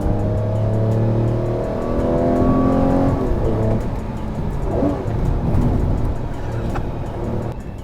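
Lamborghini V12 supercar engine, loud and close, rising in a strong rev with a rich harmonic roar, then falling to a busy, rumbling idle with crackle, and no voices.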